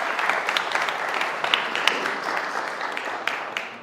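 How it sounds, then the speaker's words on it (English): Audience applause at a school event, a dense sustained wash of many hands clapping fairly near, holding steady for the whole stretch before tapering slightly at the end. "So give them a big round of applause."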